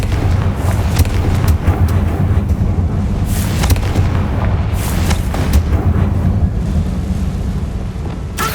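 Confringo blasting spell exploding in a Harry Potter video game, a loud, dense rumbling roar of booms and crackles that holds steady for several seconds with bursts of sharper bangs on top.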